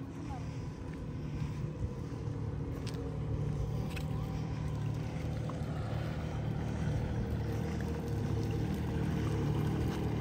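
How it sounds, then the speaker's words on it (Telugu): A large boat moves along the river at Silver Springs State Park in Ocala, Florida, its engine making a steady low rumbling drone at moderate distance, mixed with some wind buffeting. "అదిగో ఆ పెద్ద బోట్ అటు వెళ్ళింది"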